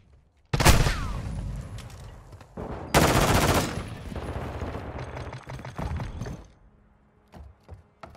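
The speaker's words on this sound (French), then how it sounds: "Je me fais tirer dessus!" Gunfire rattles through a match of Call of Duty, with two loud bursts about two seconds apart followed by lingering mid-level battle noise that fades toward the end.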